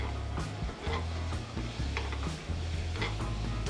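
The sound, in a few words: carrots cooking in butter and maple syrup as the syrup evaporates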